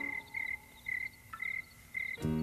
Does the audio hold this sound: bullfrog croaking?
yes